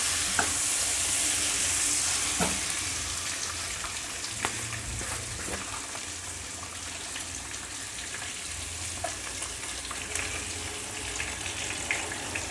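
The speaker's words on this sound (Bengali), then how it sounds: "ডিম আর আলুটা একসঙ্গে দিয়ে দিলাম ভাজা ভাজা হওয়ার জন্য" Eggs and potatoes sizzle and spatter in a pan with occasional scrapes and clinks of stirring, a steady close frying hiss without speech.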